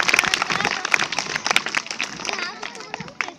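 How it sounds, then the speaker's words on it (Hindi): An audience at a speech bursts into loud, close applause, dense irregular clapping that thins out and fades toward the end. "एक बार अपने लिए, अपने देश के लिए जोरदार तालियां बजाइए ताकि मेरा भी उत्साह बढ़े"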